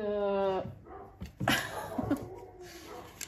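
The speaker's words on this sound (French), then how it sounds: "j'ai tous les chiens du quartier qui se mettent à aboyer" Neighbourhood dogs bark and yip a few times nearby, short sharp bursts following a brief voiced sound.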